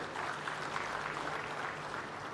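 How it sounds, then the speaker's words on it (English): Audience applause at the Africities summit in Kisumu, a soft, even wash of many hands clapping that holds steady throughout, fairly distant and quiet, with no speech over it. "I'd like to give applause to the two gentlemen."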